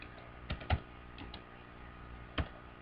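A few sparse keyboard keystrokes, isolated clicks with long pauses between, close and fairly quiet in an otherwise still room.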